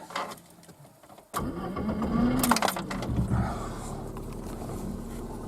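A car engine cranks and catches after keys jingle in the cabin, then settles into a steady idle, heard close from inside the car after an evening fishing trip in July.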